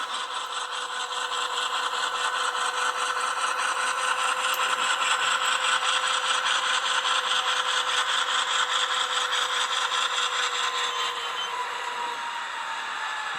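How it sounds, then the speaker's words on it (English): A ScaleTrains Rivet Counter AC4400CW model locomotive sound effect gives a sustained, high-pitched metallic brake squeal over a steady engine drone, holding evenly for many seconds before tapering off. "Very nice brake squeal effect right there"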